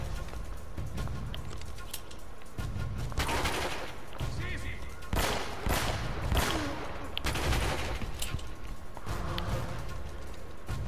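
Gunfire bursts from the video game Uncharted, rapid volleys of shots rising and falling over about eleven seconds at moderate level, with a steady game background beneath.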